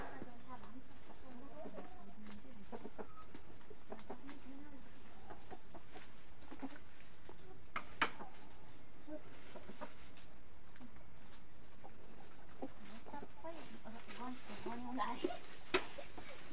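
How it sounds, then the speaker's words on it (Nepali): Chickens cluck intermittently, close by, with soft bird calls and a person talking in the background. "कुखुरा"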